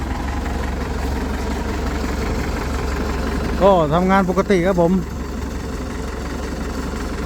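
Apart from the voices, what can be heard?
vehicle engine idling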